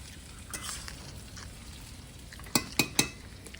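Cauliflower popcorn pakoras sizzle and fry in hot oil with a soft, steady crackle. A metal utensil stirs through them, and three sharp clinks against the pan come near the end.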